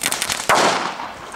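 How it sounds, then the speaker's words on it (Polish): Salut Cracker firecracker on New Year's Eve, a quick series of sharp snapping cracks followed by one loud bang that rings out and decays, close and outdoors. "Petarda Salut Cracker. To możemy tak tutaj odpalić po prostu. I rzucić tam."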